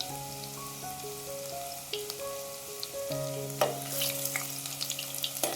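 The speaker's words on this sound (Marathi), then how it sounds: "आता हा लसूण आपण तेलामध्ये छान परतून घेऊया" Crushed garlic cloves sautéing in hot oil, a soft, steady sizzle that grows livelier with a sharp crackle partway through, under faint sustained background music.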